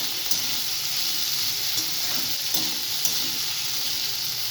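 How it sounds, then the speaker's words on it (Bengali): Fish fries in a pan with green chillies, giving a steady, fairly loud sizzle broken by occasional soft scrapes and clicks of stirring. "মাছটা কিন্তু ভালো করে ভাজতে হবে এইভাবে ভালো করে নাড়াতে হবে"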